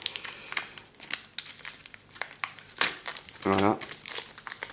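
Scissors cut open the foil wrapper of a Pokémon booster pack, making crisp crinkling and snipping noises close up, mixed with short bursts of French speech.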